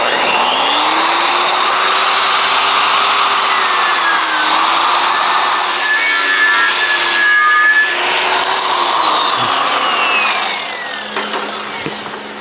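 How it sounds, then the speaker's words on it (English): A power wire wheel grinds steadily against the welds and heat-affected zones of a steel drill press base, a loud, continuous abrasive rasp with a faint whine that eases off near the end. "knock off the heat affected zones wherever you can see them, and the welds with the wire wheel"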